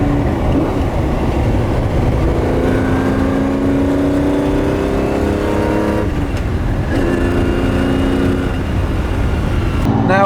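A classic Lamborghini Countach drives along the road, its engine a steady loud drone with layered harmonic tones, shifting pitch around the six-second mark before settling back into a constant cruise.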